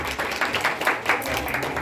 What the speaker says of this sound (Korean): 도현이 일단 박수